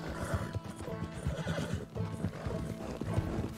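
A horse runs in Red Dead Redemption 2 with continuous, rhythmic clip-clop hoofbeats, close and steady, with whinnies mixed into the galloping.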